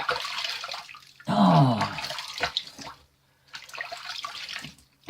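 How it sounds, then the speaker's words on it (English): Tap water runs and splashes as a face is rinsed after a shave with a Gillette Slim Twist razor, a loud burst of a second or so near the start, with a brief spoken exclamation and quieter handling sounds around it. "Let me do a good rinse here."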